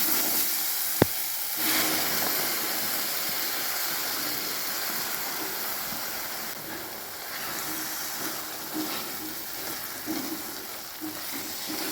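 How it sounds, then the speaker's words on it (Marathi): Green peas frying in an oily masala gravy with potatoes give a continuous close sizzle and hiss with occasional stirring scrapes, and one sharp metallic clink near the start. "आपल्याला हे मसाल्यातच 2 मिनिटं फ्राय करून घ्यायचं आहे"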